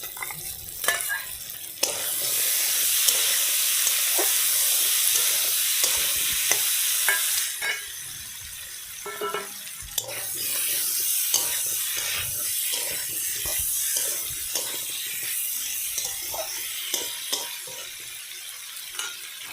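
Hilsa and snakehead fish heads frying in a pan, with a steady close sizzle, a louder burst as the fish goes in, and repeated scraping and stirring strokes, with no talking.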